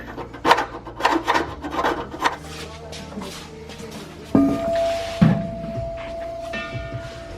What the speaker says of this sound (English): I'm just sanding off the spots I'm welding right now